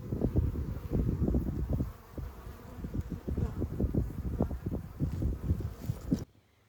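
Dense buzzing of many honeybees swarming close by at a hive, a steady droning hum with wingbeats pulsing in and out, ending abruptly.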